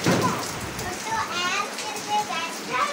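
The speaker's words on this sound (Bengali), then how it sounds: "বাইরে অনেক বৃষ্টি পড়তেছে সকাল সকাল।" Heavy morning rain pours outside a home, a dense, continuous hiss of falling water heard from indoors, with voices speaking over it.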